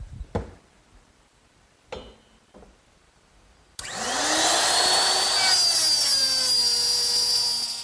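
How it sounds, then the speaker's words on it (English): A few knocks and clatters of a dovetail jig being set up come first, then a handheld router starts up and cuts a dovetail slot in wood, a loud sustained high whine filling the rest. "the instructions for my jig tell me to use the same router setup, but this slot to make the female part of the dovetail"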